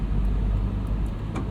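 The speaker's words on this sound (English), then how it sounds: "the engine with these mods it's still a smooth inline six" Brief, steady, smooth rumble from a modified BMW E46 M3's S54 inline-six engine on a track build, heard close and loud with no voices.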